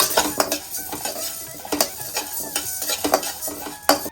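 Spices dry-roasting in a pan, with a spoon scraping and stirring in repeated strokes, metallic clinks and a light dry rustle close by, no talk.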